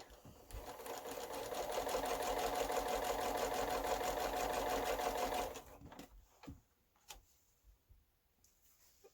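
A sewing machine stitching quilt pieces runs in a fast, steady mechanical whir for about five seconds, then stops, followed by a few soft handling clicks and rustles.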